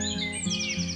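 A sparrow chirps in quick, bright bursts over a steady musical background, the tweets close and clear for about a second.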